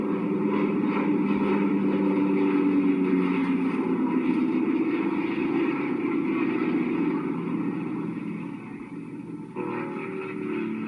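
A large propeller firefighting air tanker drones loudly overhead during a fire drill at Topsail Island, its engine roar sustained and slowly fading, then shifting pitch near the end.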